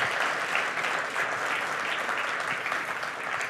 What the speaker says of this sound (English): Clap your hands, give God praise